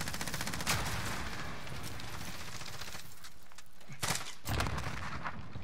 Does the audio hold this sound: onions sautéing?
no